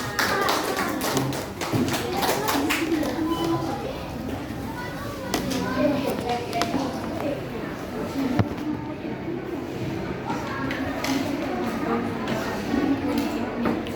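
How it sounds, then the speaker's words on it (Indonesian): Students applaud in a classroom as a group comes forward, a dense, steady patter of clapping mixed with children's voices and chatter. "Kasih tepuk tangan dulu ya semuanya."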